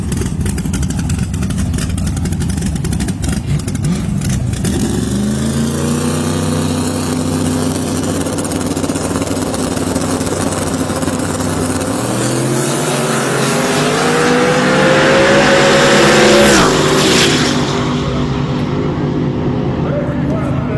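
A Christmas Tree drag race car accelerating hard down the strip at a drag race world championship, its loud engine rising in pitch through the gears and roaring past close by, with an announcer talking over it.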